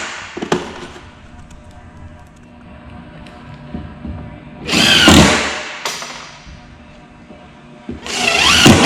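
A power drill driving screws into wooden planter box pieces, two loud close bursts of whirring and grinding with a faint click before them and quiet pauses between.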